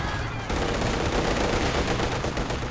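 Rapid machine gun fire from a Company of Heroes 2 battle, a dense continuous rattle of shots that sounds loud and close, beginning abruptly and carrying on without pause.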